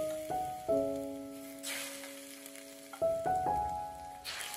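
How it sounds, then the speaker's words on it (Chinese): Hot oil heated to about 220 degrees poured in ladlefuls over minced garlic for steamed eggplant, each pour giving a close, sharp crackling sizzle that fades, repeated a few times. "浇上烧热到大约220度的热油"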